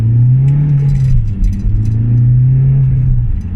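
A 2009 Mitsubishi Lancer diesel with a turbo revs steadily up close, its loud low engine drone holding almost level for several seconds with slight swells and dips in pitch.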